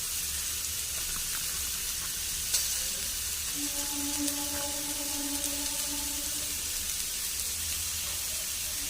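Kashmiri chili stirred into spices frying in a pan for a chickpea, potato and bottle gourd curry, giving a steady close sizzle with soft stirring scrapes and no talk.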